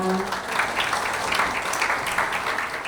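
Audience applause at a World Hepatitis Day health event welcomes guests onto the stage, a dense steady wash of clapping, with some voices mixed in.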